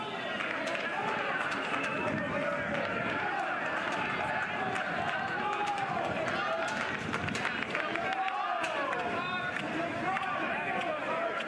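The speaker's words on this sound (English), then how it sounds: "Crowd here in Norman letting Eric Gaucher hear it." Baseball crowd at a college game in Norman, Oklahoma, jeering a batter: a steady, dense wash of many voices booing and shouting throughout, with no clear individual words standing out.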